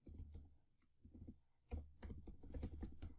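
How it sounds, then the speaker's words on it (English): Keys clatter on a computer keyboard while field names are entered into a database table, quiet irregular bursts of clicks separated by short pauses, close and alone. "Now here I am going to type first name, so varchar."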